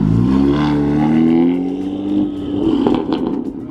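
A car engine at a holiday car meet revs loud and close, its pitch climbing then settling into a steady growl before a few rougher bursts, with no voices over it.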